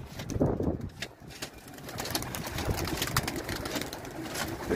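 Pigeons coo in a tall rooftop pigeon tower in Damietta, a dense, continuous murmur of soft calls with rustling and wing noise, close by and unbroken for several seconds.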